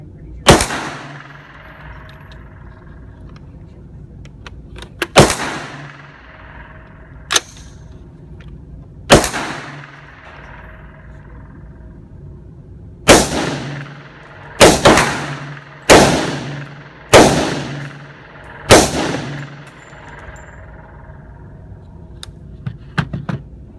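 Gunfire at an outdoor shooting range from a Glock 19 and a PSA M4: about a dozen loud, sharp shots with echoing tails, first spaced several seconds apart, then in a quicker run.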